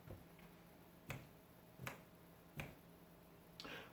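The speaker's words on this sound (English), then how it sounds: "Can't snap my fingers, it's too dry." Four dry finger snaps, each a short sharp click, spaced roughly evenly and heard alone against a quiet room.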